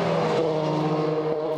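Number 6 Ginetta race car at the 4 Hours of Silverstone, a loud steady engine drone passing close with a sustained high rev and no talk.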